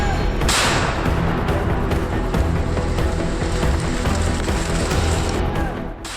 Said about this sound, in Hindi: अचानक एक धमाके ने पूरे इलाके में कोलाहल मचा दिया।